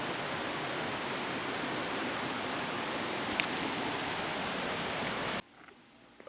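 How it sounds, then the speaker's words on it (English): Heavy rain pours down steadily over a backyard with a swollen creek, a dense, constant roar that holds evenly, then cuts off abruptly near the end. "Raining like crazy."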